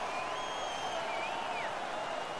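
Hockey crowd in a junior league arena roaring and cheering after a fight, with a steady wall of noise, scattered whistles and shouts throughout, broad and sustained with no breaks.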